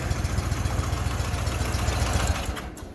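A Walker lawnmower engine running steadily up close, a loud, fast, rattling mechanical drone with a rapid pulsing beat that holds constant, then eases off slightly near the end.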